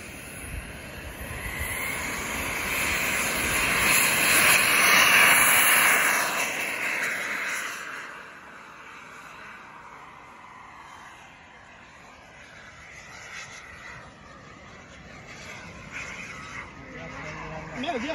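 A Kingtech K-85 turbine model jet, a Hot Dog 3D airframe on its maiden flight, spools up with a loud rising whine and roar on takeoff, peaking then fading as it climbs away, leaving a distant turbine hiss.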